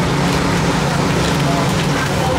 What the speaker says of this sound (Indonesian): kok api ini cukup kenceng, ternyata pakai blower